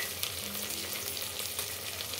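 Ginger garlic paste fries in a pan with a steady, close crackling sizzle that does not break, plus faint stirring and no talk.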